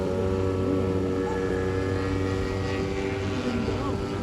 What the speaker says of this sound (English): the first plane up there is a Curtiss JM4 Jenny